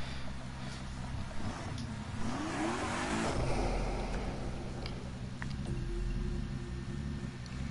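A car engine in Need for Speed Heat revs and drones steadily at close range, with a rising pitch sweep midway and a continuous loud growl throughout, no talking.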